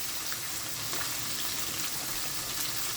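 Sinigang soup boiling in a pot gives a steady, dense bubbling hiss with soft pops, continuous and close for the whole stretch, with no voices over it.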